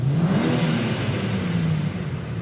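A 2024 BMW M4 Competition engine drones steadily at high revs, holding a loud, constant pitch throughout without any stutter or cut-out, as it has no rev limiter.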